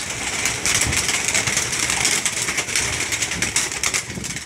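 Young racing pigeons released together, a dense continuous fluttering of many wings close by, loud and unbroken for several seconds with no talking.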